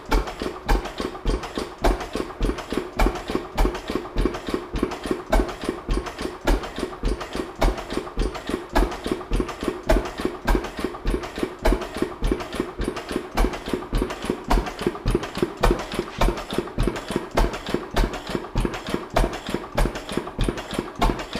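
A vintage stationary engine running lean as its fuel runs low, chuffing in a steady, even beat of rapid thumps that continues unbroken and fairly close for the whole stretch.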